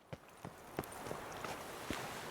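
Hoof steps of a horse in The Witcher 3 land as a handful of separate, fairly quiet knocks at uneven intervals over a steady background wash.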